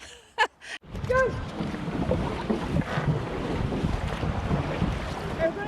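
A dragon boat is paddled across the water at Lagan, with a brief shout at the start. Then a steady rush of water and heavy wind buffeting the microphone carry on to the end without distinct paddle strokes.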